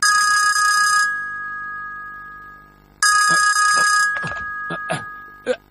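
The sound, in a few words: telephone ringing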